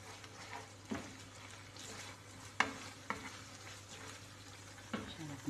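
Corned beef (carne norte) frying with egg in a pan, a steady low sizzle broken by a few sharp utensil scrapes and taps, with no talk over it.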